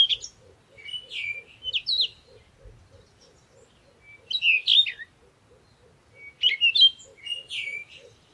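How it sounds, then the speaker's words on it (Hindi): Small caged birds chirping in bright, quick bursts of twittering that come and go with short pauses, over a faint, regular low ticking. "बहुत सारे पिंजरे में बहुत सारे चिड़िया रखी थी।"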